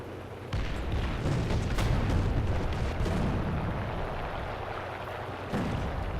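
Tank cannon fire and battle noise from a T-34 in the War Thunder realistic battle, a dense, loud, continuous rumble of booms with no clearly separated single shot.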